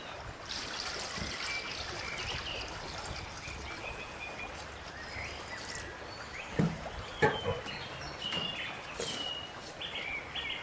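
Water is poured into a cooking pot on a wood-fired stove outdoors at a farm, making a soft trickling splash while birds call in the background.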